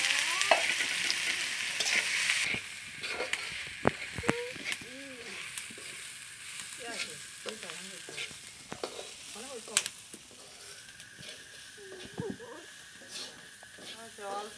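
Oil sizzles and fries loudly in a kadai wok, hissing hardest at the start and then carrying on more softly beneath people talking.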